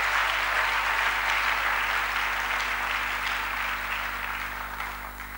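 Church congregation clapping together in a sustained, even burst of applause that holds steady, then slowly fades toward the end, with no voices over it.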